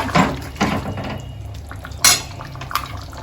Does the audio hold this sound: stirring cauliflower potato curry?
yes